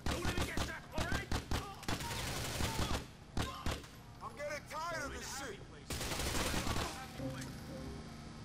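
Bursts of gunfire from GTA IV: The Ballad of Gay Tony, loud rapid volleys and single shots in uneven clusters, with someone talking excitedly over the shooting.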